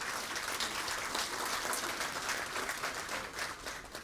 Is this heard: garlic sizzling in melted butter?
no